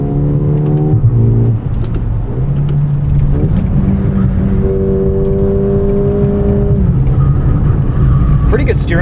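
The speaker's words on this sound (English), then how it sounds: "You can hear there's some fake piped-in engine noise." Synthetic engine sound piped into the cabin of a 2024 Mercedes-AMG GLA 35 in Sport Plus mode, a steady loud droning hum that rises in pitch with each paddle-shifted gear, with someone talking over it.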